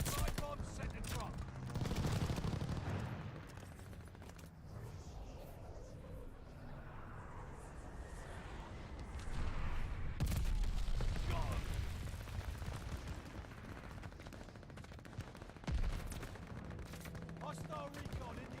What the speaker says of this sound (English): Allies called an airstrike. Watch your head. Glide bomb set to drop.